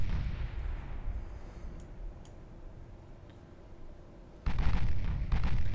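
Heavy 8-inch guns of a British dreadnought fire high-explosive shells in an Ultimate Admiral Dreadnought naval battle, a deep booming roar that rumbles on, then a louder fresh blast near the end, with no talk.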